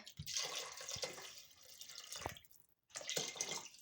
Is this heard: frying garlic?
no